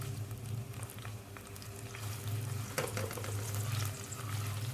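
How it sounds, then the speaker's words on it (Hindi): Sliced onions fry in a pan, giving a steady, quiet sizzle and crackle that runs the whole time, with a low hum underneath and one brief sharper pop partway through. "अभी प्याज ऐड करेंगे। और इसको गोल्डन ब्राउन होने के लिए रख देंगे।"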